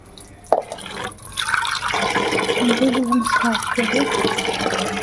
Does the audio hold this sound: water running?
yes